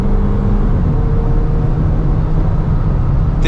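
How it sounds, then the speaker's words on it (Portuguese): Fiat Fastback Limited Edition with a 1.3 turbo engine, a steady engine roar under acceleration from inside the car, loud and continuous throughout with a faint change near the end. "Ó o ronco."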